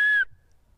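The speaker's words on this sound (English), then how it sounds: "You need a whistle for your dog." A single clear, steady whistle tone, part of a two-tone whistle to call a Siberian Husky, held briefly before cutting off, leaving near silence.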